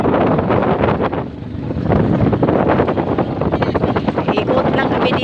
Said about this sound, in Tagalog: Ikot kami sa bangka.